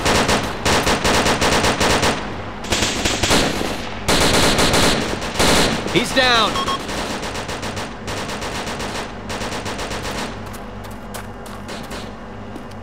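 Loud, dense machine gun fire from an ARMA 2 military combat game, sustained bursts rattling almost continuously near and far, with a voice briefly calling out partway through.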